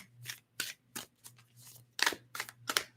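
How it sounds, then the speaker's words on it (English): Tarot cards being shuffled in quiet bursts: a run of short, crisp riffling and slapping strokes, close and fairly soft, with a faint low hum underneath and no talking. "Let's balance these 3 more times. Okay, 3 more shuffles."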